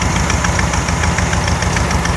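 A 1964 VW Beetle's 1600cc dual port engine runs loud and close, a steady raspy drone with a rapid pulsing beat and no clear rise in pitch, with no talking.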